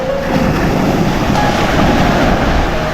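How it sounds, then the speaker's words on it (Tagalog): Rough sea waves surging around a small outrigger boat out on open water, a constant loud wash of water and wind noise close to the microphone with no talk. "para mas malapit-lapit sa alon"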